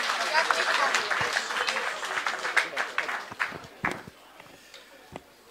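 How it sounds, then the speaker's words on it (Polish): Crowd applause for a speaker at a political meeting in Kraków, a dense burst of clapping that thins out and fades over several seconds, fairly distant, with scattered claps at the end. "Gorące brawa!"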